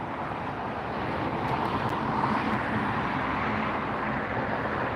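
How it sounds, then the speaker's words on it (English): A Boeing 747 cargo plane at LAX airport roars past outdoors, a loud, steady broadband jet rumble filling the whole stretch with no breaks. "There goes the tail end of the 747 cargo."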